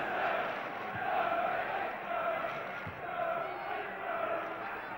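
Large football stadium crowd at a Peterborough United versus Liverpool evening match, a steady dense roar and murmur filling the background with no standout cheer.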